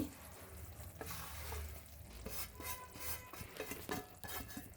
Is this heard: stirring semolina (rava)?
yes